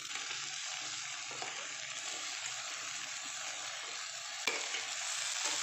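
Potato and ridge gourd pieces fry in oil with turmeric while being stirred, producing an even, continuous sizzle with one sharp clink partway through and no speech.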